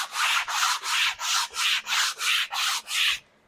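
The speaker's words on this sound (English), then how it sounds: "Now I can wrap my paper on there, and I can just grind that off." Wood being hand-sanded with 80 grit abrasive paper wrapped around a block on a back joint strip, eight steady back-and-forth rasping strokes in an even rhythm, close and clear with no voices.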